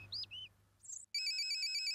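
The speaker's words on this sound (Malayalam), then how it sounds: "ഫോൺ അടിക്കുന്നുണ്ടോ?" A mobile phone ringtone starts up and repeats steadily at a fairly faint level after a few brief electronic chirps, as if sounding from another room in a house.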